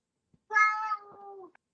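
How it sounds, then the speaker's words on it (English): A single drawn-out cat meow, clear and fairly close, rising then trailing off, with quiet surroundings before and after. "That was a cat. That was a cat."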